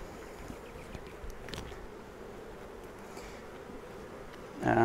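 Honey bees buzzing during a Flow Hive Hybrid inspection, a soft steady hum throughout with a few faint knocks and a louder burst of handling noise at the end.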